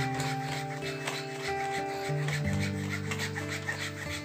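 Hand-worked trunk of a white amplas bonsai, hard wood scraped and rasped without power tools, giving a steady close rubbing sound with faint ringing tones underneath.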